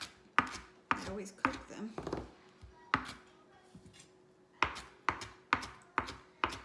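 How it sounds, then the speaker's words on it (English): A knife chops cilantro on a cutting board in a run of sharp, close, irregular strikes, with a pause where a voice briefly talks before the chopping resumes. "I'm going ahead and chopping up a bunch and adding it to my bowl"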